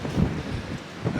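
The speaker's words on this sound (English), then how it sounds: "I know it's windy out here, y'all." Wind buffets a campsite during stormy weather, a low rumbling rush with gusty surges striking the microphone, steady and fairly loud with no voices.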